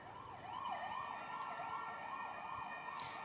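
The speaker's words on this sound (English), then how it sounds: "now you can probably hear as well sirens behind me." Police sirens wailing in a street in Brussels, a steady rising-and-falling tone heard from a distance, faint but continuous with no voices over it.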